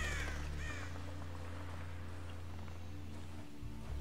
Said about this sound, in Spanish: Al menos los cuervos no pasarán hambre.